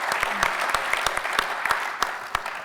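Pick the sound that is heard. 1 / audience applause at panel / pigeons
audience applause at panel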